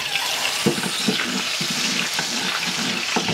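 Hot lard sizzles steadily in a small clay cazuela on a ranch kitchen fire, a close, continuous crackling hiss with faint clicks and taps scattered through it, with no talking.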